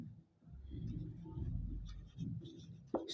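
Chalk or marker scratches across a board during a geography lesson in a classroom, with faint short strokes and taps and a soft voice in the background.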